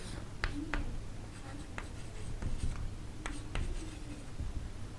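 Chalk or marker writing on a board during an engineering physics lecture on the Newton's rings experiment, with repeated short strokes and taps in steady bursts over a constant room hum, close and moderately loud.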